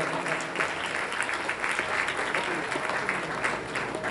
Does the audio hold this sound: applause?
yes